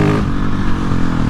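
A 2020 Husqvarna 701 motorcycle engine revs hard and close, with a loud, steady roar and a throaty rasp running through the whole short burst and no talking.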